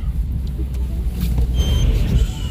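A car rolls slowly along a residential neighbourhood street, giving a steady low engine rumble with road noise, close and continuous throughout.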